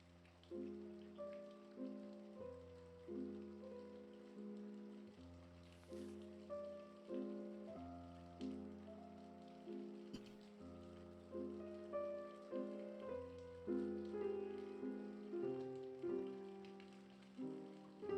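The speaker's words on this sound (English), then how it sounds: "What lovely rain sounds." Rain ambience inside the game On a Winter's Night, faint steady patter beneath a looping tonal melody that swells in regular waves, with no voices.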